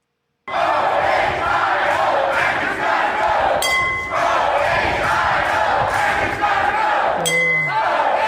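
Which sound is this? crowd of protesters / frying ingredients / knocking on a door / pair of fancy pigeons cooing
crowd of protesters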